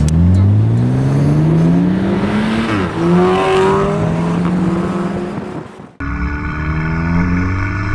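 A loud, throaty exhaust on a modified 2016 VW Golf R Mk7 with a non-resonated, non-valved Milltek catback revs up and down in long sweeping pulls, close by, with a sharp break before a steadier high rumble.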